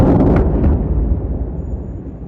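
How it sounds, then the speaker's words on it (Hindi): A heavy explosion at a Hezbollah command centre and weapons site in Lebanon hits hard at the start, then rumbles and decays over about two seconds into fading low-frequency roar. "इजराइल ने लेबनान में हिजबुल्लाह के कमांड सेंटर और हथियार ठिकानों को धमाके से उड़ा दिया"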